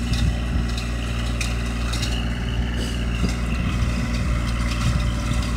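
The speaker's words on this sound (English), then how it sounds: "And there he is over there on the tractor." A tractor breaking ground for a new garden along a property line, its diesel engine droning steadily and loud throughout, with faint clanks over the rumble and no talk.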